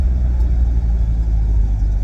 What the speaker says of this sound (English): got distracted by the sound of a Mustang there. I love rumble here and there.